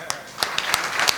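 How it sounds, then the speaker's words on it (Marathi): An audience at a kirtan claps in a quick, uneven rhythm of sharp close claps, with a voice sounding briefly underneath. "अजून जरा जोरात टाळ्या वाजवा."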